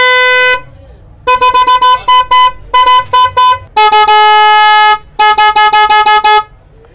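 Two copper waterproof motorcycle horns blare together in a high and low tone, alternating long sustained blasts with bursts of rapid short toots, loud and close with no talking.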